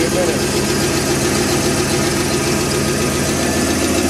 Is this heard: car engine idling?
yes